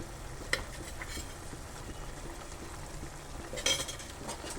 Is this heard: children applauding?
no